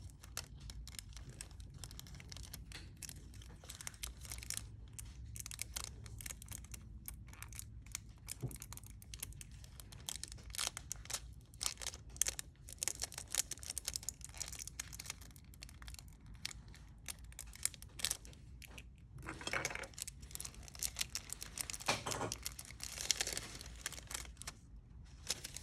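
Thin nail art transfer foil is crinkled and handled close up, giving quiet, irregular crackles and light tapping rustles with brief pauses between bursts.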